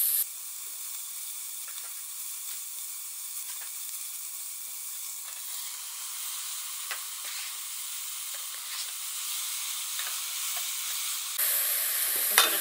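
Vegetable soup simmers in a cooking pot as tomatoes go in, giving a steady close sizzle and hiss with light stirring ticks and a brighter surge near the end, with no talking.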